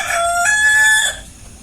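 A rooster crows once on a poultry farm, a loud, drawn-out call close by, trailing off into quiet background noise.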